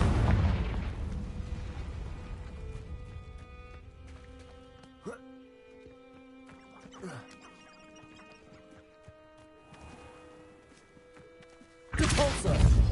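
A Confringo blasting spell from Hogwarts Legacy goes off in a loud, broad burst at the start and fades over a couple of seconds, with quieter game sounds after and another sharp blast at the very end.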